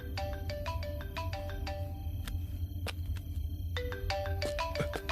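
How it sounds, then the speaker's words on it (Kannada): A mobile phone ringtone plays as a repeating electronic melody of bright tones, steady and fairly loud over a low background hum, with no talk. "ನಿಮ್ ಫೋನ್ ಬಡ್ಕೋತಿದೆ"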